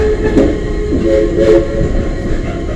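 Southern Railway 4501, a Mikado steam locomotive, sounds near and fairly loud as a sustained whistle tone that rises and swells over a rolling rail rumble, with no talk.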